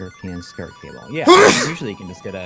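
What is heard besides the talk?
sneeze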